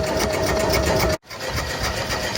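A wood-fired Stirling engine generator runs at an estimated 400 to 500 RPM, giving a steady, loud mechanical rhythm close by, broken by a brief dropout near the middle before the rhythm continues.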